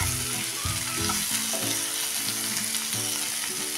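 Tomato for a dhaba-style cashew masala, frying and stirred in a pan until soft: a loud, dense sizzle with rhythmic scraping strokes of a spoon repeating every half second or so, with no talk.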